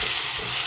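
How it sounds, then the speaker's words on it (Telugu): Brinjal and tomato pieces frying in a pan for a village-style chutney, giving a steady, close hiss of sizzling oil throughout a brief moment with no talk. "చూసారు కదండి, ఫ్రై అవుతున్నాయి."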